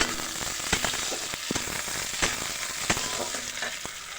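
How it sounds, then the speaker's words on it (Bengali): Bitter gourd and potato bhaji fries in a pan, giving a close, continuous sizzle with scattered sharp pops and crackles throughout. "এখানে বসিয়ে দিলাম তিতে কলরা আলু ভাজি"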